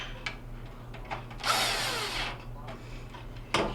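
Power drill driving the mounting bolt back into a Whirlpool oven control panel, one loud steady whir of about a second, with small clicks and handling knocks before and after.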